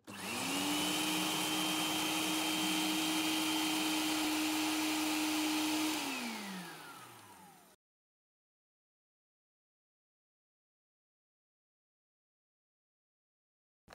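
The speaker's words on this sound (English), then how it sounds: "we're just going to grind this as smooth as we can get it. As I said, it's not going to be very smooth because the blender is not efficient" A blender grinds cacao nibs into chocolate with a loud, steady motor whine at close range that runs down and stops after about eight seconds, then silence.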